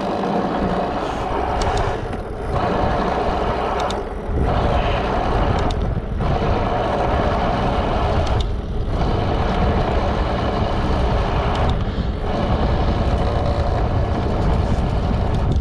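A Bafang BBSHD 1000-watt mid-drive e-bike motor pulls at full throttle, a loud steady electric whine with road and wind roar that briefly dips several times, as if shifting or easing, with no talking.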